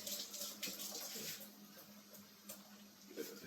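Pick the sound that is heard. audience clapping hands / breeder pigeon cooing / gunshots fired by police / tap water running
tap water running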